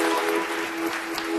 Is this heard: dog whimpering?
no